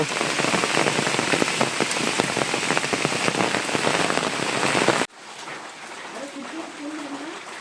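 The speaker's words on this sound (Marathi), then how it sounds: "हा पाऊस काय थांबाय ना" Heavy monsoon rain pours down in a dense, loud patter for about five seconds in the Konkan countryside, then cuts off abruptly to quieter background with a voice speaking.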